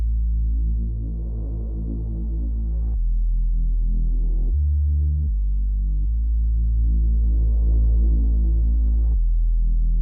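A jungle Reese bass synth made in Serum plays deep, detuned sustained notes with a phasing, throbbing growl and a heavy sub, changing pitch in a slow pattern across a few long held notes.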